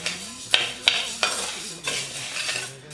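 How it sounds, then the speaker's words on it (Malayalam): Green gram dry-roasting in a heated uruli over a medium flame, stirred with a metal spoon that gives several sharp clinks and scrapes over a soft rattle of grains. "ഒരു ഉരുളി അടുപ്പത്ത് വെച്ച് അത് ചൂടാകുമ്പോഴേക്ക് നമുക്ക് ഈ എടുത്തു വെച്ചിരിക്കുന്ന ചെറുപയറിലിട്ട് ഒന്ന് വറുത്ത് കൊടുക്കാം."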